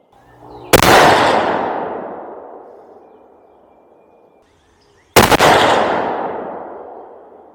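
Two loud, sharp rifle shots fired at a target, about four seconds apart, each followed by a long decaying echo in an outdoor setting, using Hornady 130 grain American Whitetail ammunition in a rifle with a wood or composite stock.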